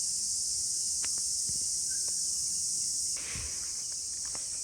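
Crickets chirping on a Konkan village morning, a steady high insect trill held throughout at a moderate level, with a few soft clicks and rustles beneath.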